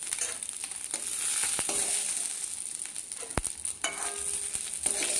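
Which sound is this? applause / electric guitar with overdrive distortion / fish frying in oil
fish frying in oil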